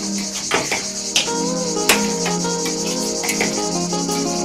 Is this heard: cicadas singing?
yes